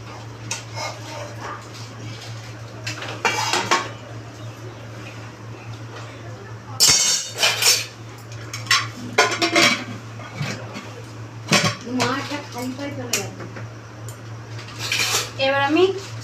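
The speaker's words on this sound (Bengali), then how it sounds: "এবার আমি ভেজে রাখা আলুগুলো দিয়ে দিচ্ছি।" Fried potatoes tipped into a pot of mutton curry, with repeated metal clanks and scrapes of a spoon against the pot over a steady low hum; brief voices are heard in the background.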